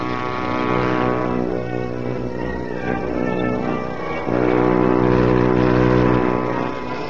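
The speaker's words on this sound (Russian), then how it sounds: "Наблюдательные посты заметили появление вражеских самолетов." Piston-engined enemy warplanes from 1941 drone overhead in a loud, steady, harmonic roar that swells and shifts pitch midway, continuous throughout with no voices.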